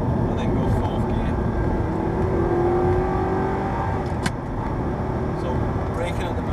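Audi R8 engine droning steadily on a race track during a Prodrive track day, a sustained loud roar with a rising tone as it accelerates, while someone talks over it.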